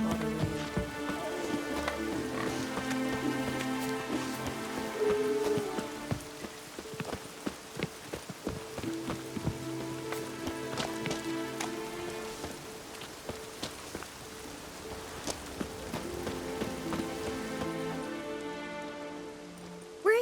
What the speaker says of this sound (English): Maybe we needed a spot of rain.